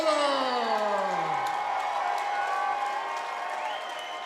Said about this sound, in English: Good response from the crowd here at Monona Terrace